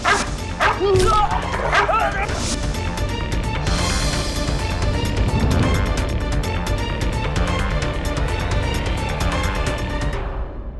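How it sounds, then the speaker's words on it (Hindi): A dog yips, whimpers and barks in a busy courtroom drama scene, the animal sounds close and repeated over dense background music and voices for most of the span. "एक कुत्ता।"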